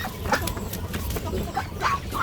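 Large ducks on a rural farm in Laos, feeding at a trough, give brief scattered quacks and calls over a steady low background noise, fairly close but not loud, with no talk.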